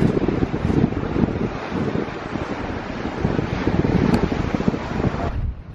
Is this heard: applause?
no